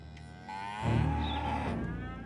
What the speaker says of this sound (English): There are 9 million dairy cows in the United States alone, and they're used to being milked 2 or 3 times a day.